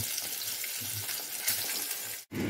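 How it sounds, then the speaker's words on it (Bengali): Fish fries in hot oil in a home kitchen, a close, continuous sizzle and crackle with small spattering pops, briefly cutting out near the end before resuming. "মাছ ভাজা চলছে"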